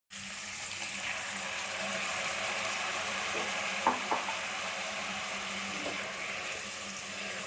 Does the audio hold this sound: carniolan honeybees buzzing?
no